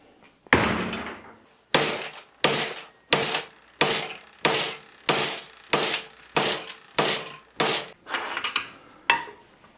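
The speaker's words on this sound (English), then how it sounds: "Get our little hammer and give her." A small hammer bends scrap-metal spike legs, ringing out about a dozen loud, sharp metallic blows at a steady rhythm, each one decaying quickly before the next strike.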